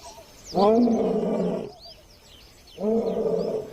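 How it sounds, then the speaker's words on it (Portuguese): A male lion roaring to claim his territory, two deep, drawn-out roars separated by a pause, loud and near, with faint bird chirps in the background. "Seus rugidos avisam aos machos rivais de que este território é dele."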